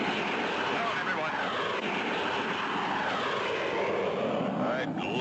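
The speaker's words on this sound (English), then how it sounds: "the black jet suddenly dove at them" A black jet aircraft dives and roars past in a sustained, loud, broad engine rush that fills the whole stretch and fades slightly near the end.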